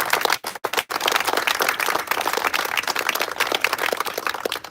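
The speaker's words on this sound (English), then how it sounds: "Let's give them a round of applause." Loud, dense applause from a large crowd, a continuous roar of many hands clapping at once.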